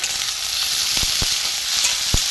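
Chopped onion and tomato fry in a pan for a prawn-head bora curry, a steady close hiss of sizzling oil with a few sharp spatula knocks scattered through.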